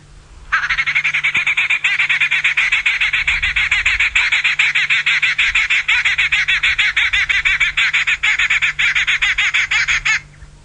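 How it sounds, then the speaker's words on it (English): A pied babbler on a sunset safari drive gives a loud, close, continuous chattering call, a rapid string of harsh pulses that runs unbroken for about ten seconds and then stops abruptly, with no voices over it. "So that is the strange call of the pied babbler."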